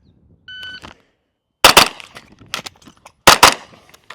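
Rifle fire and a magazine reload during a shooting drill on the move: a short metallic click of the reload, then two sharp, loud gunshots, each followed by quick echoing follow-up shots and ringing decay.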